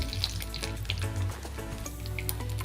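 Bay leaf, cinnamon pieces and four or five peppercorns sizzling in hot oil with ghee, a close, continuous crackle with sharp spits and pops over a low hum.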